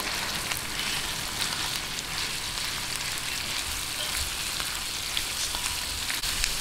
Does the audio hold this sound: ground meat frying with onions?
yes